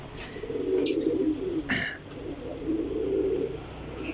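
Sialkoti pigeons coo in low, rolling murmurs, two long cooing phrases close by, with a brief rustle or flutter between them.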